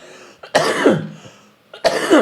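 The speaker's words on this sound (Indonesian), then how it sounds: "Maaf ini saya sambil batuk-batuk" Two harsh, loud coughs close to the microphone, each burst separated by a short breath and quiet pause.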